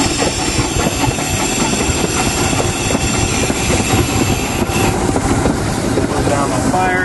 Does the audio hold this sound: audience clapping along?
no